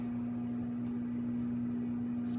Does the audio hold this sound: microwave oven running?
yes